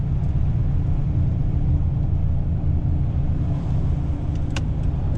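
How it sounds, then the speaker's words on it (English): A big truck rolls past on a road, a loud, steady low rumble of engine and tyres filling the whole stretch, with a brief higher clank near the end. "That's a big truck."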